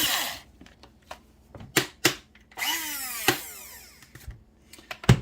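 Coffee beans crushed in a small hand grinder, a string of sharp bursts and whirring grinds, close and fairly loud, with brief pauses between.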